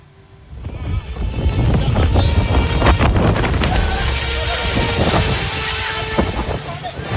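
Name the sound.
strong wind at Kuta Beach, Bali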